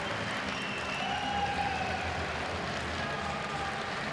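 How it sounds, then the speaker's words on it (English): Steady applause from an audience at a speed climbing World Cup competition in a large space, moderately distant, with crowd murmur underneath. "Big round of applause as well from the audience here."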